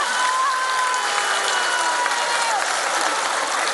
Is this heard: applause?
yes